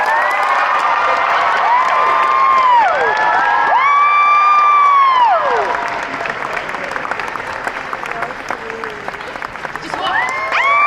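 Convention audience at an anime Q&A panel cheers, whoops and screams loudly and continuously, with high-pitched shrieks rising and falling over steady crowd noise, easing slightly toward the end before swelling again.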